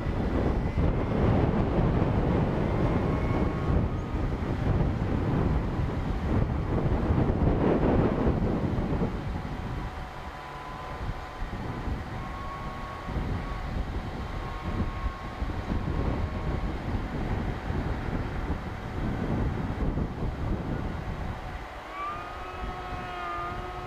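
Strong, turbulent wind buffets the microphone outdoors, roaring heavily at first, then gusting unevenly, with the faint, thin whine of a small model aircraft motor drifting through.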